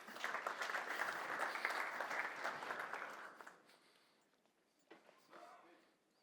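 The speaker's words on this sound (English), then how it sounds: "Great applause" A symposium audience applauds steadily for about three seconds, then the clapping fades to a few scattered claps and faint shuffling.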